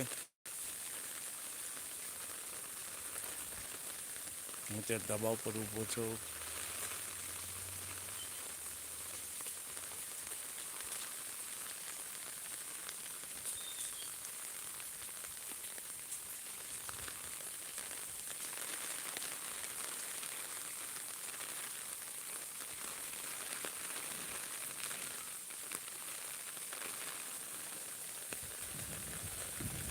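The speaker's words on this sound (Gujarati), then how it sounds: "વરસાદ સારો એવો વરસાદ વરસી રહ્યો છે" Heavy rain pours in Akala village as a steady, even hiss across the whole stretch; someone speaks briefly, and a short low tonal sound rises near the start.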